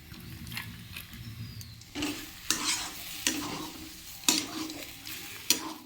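A vegetable mixture frying in a pan is stirred together, soft sizzling under repeated scraping strokes of a spoon against the pan, roughly one every second.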